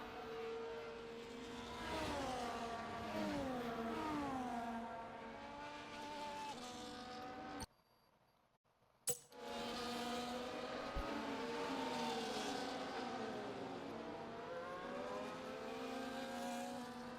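Formula 1 race car engines in a racing video game howl in overlapping layers, their pitch sweeping up and down through gear changes. The loud, continuous roar cuts out briefly to near silence, then returns just as strong.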